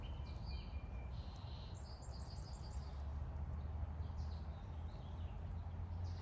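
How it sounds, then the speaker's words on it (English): Faint birds chirp and trill at a distance over a steady outdoor hum of low background noise, with no voices. "Can you hear the birds?"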